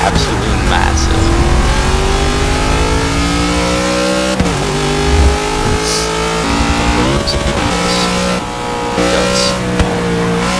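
A Cadillac limousine in the racing game Forza 6, its engine revving and droning continuously with pitch shifts as it drives, spins out and slides, and voices talk over it.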